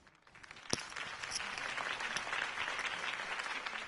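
A crowd applauds after a campaign speech for a city election, the clapping rising from quiet to a steady, dense roar, with one sharp loud clap near the start.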